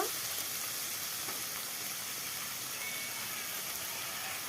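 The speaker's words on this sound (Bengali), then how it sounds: "এবার চানা আর মটরটা দিয়ে ভালো করে একটু কষিয়ে নেব" Chickpeas and peas sauté in a hot pan for vegetarian ghugni, giving a steady, even sizzle and frying hiss that stays close and constant, with no voices.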